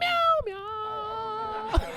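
A person mimics a cat's meow with their voice, drawing out one long falling meow and then a shorter second call, close and clear with no other talk.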